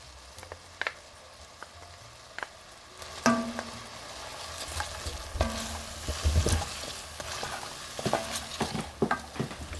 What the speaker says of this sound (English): So I'm going to add about 3 cloves of fresh garlic.